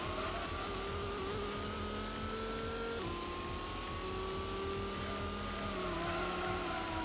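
Loud, continuous engine whine from a tuned Gran Turismo race car, rising and stepping down through gear changes, with faint tyre scrub underneath and no voices.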